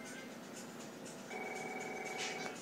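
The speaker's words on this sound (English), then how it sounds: "It all starts with a phone call." A telephone rings in The Last of Us video game, a steady electronic ringing tone that starts partway through over a quiet background hum, fairly faint overall.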